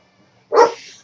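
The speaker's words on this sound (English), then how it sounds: "Dogs are playing." A dog gives one sharp bark partway through while dogs play, and quiet room tone fills the rest.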